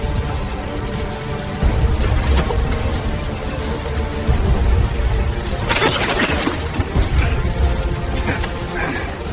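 Steady rain patters and hisses throughout, a dense wash of drops with a low rumble underneath and a few brighter splashes.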